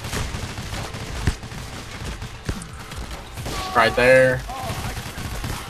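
Gunfire in the video game Payday: The Heist during a fight with a masked tank enemy, a few sharp shots scattered over steady game noise, with voices talking briefly.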